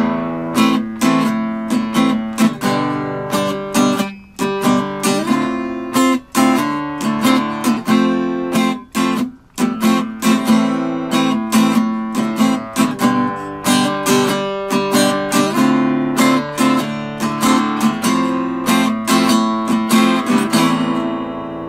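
Electric guitar strumming a reggae chord progression with steady offbeat chops, loud and close, playing continuously on its own with no talking.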